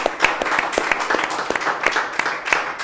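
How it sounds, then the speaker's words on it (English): Audience applause fills a chess tournament hall, the GRENKE Freestyle Chess Open, steady dense clapping from a crowd lasting the whole stretch without pause. "he deserves a massive round of applause"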